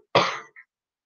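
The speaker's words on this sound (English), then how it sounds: "Excuse me, I have to cough." A single short, rough cough or throat-clear close to the microphone, followed by a tiny trailing sound, then silence.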